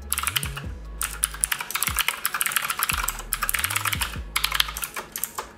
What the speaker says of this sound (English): I'm going to go ahead and type in my credentials here.